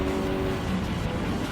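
Race cars, including a Ford Escort RS, taking a corner in Gran Turismo 7: a steady droning engine roar with a faint tonal whine, loud and continuous, with no voices.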